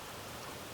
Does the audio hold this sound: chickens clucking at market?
no